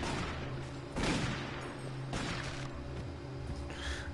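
Rapid gunshots in Doom 3 VR Edition, a sustained volley of overlapping blasts with sharper cracks at a few moments, loud and close, with no talking.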